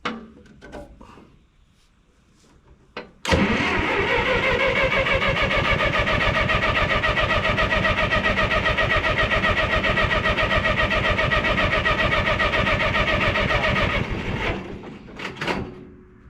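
An engine cranks briefly with the choke pulled out, then catches and runs at a loud, steady idle for about eleven seconds before it shuts off, followed by a couple of faint knocks.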